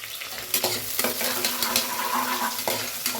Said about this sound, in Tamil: பெரிய வெங்காயத்தை கட் பண்ணி வச்சுருக்கேன். ஃப்ரை பண்ணிக்கிறேன் நல்லா